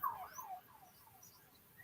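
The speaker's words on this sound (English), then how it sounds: "I know, Ray, the sirens are going by." Faint, distant emergency vehicle sirens wailing as they pass by, a rising and falling tone fading under quiet background ambience.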